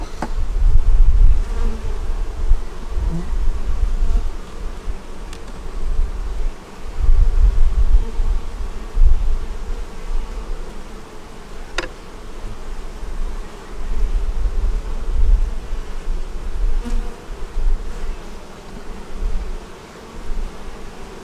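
A steady, low droning hum of many honeybees buzzing close by around an open, overfull hive, swelling and fading in waves, with no voices.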